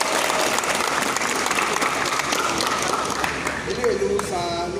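An audience applauds throughout at a gathering where the Ooni of Ife speaks about a partnership with OAU. The clapping is dense, sustained and fairly close, with crowd murmur beneath it.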